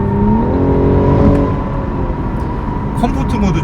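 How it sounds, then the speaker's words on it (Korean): A BMW M440i coupe's inline-six engine pulls hard under acceleration, a loud steady drone with rising harmonics filling the cabin, while someone talks over it throughout. "이 사운드나 이런 거는 직렬 6기통 당연히 좋죠"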